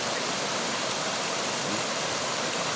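Clear mountain river water flows in a steady, dense rush, full and close with no pauses and no voices over it.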